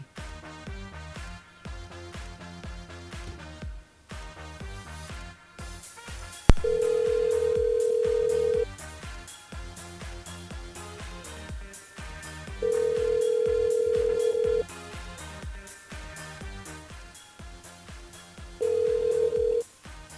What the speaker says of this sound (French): On appelle Leslie du côté de la possession.